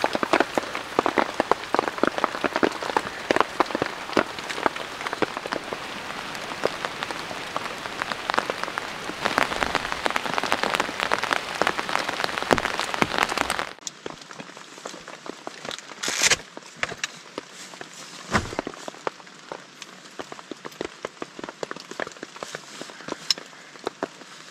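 Heavy rain pours on a bushcraft shelter at an overnight camp in deep forest, a dense, loud, continuous patter of drops that becomes somewhat lighter and more open partway through, with no voices.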